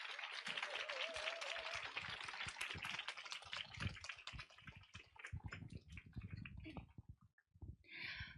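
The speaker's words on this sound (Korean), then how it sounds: "큰 박수 모시겠습니다." A seated audience at a Synergy leadership lecture claps to welcome the speaker, dense and continuous but fairly faint, thinning out toward the end.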